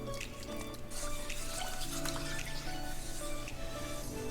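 Pretzel dough being dipped in water, giving soft, close dripping and trickling water sounds that carry on steadily for a few seconds in a quiet kitchen.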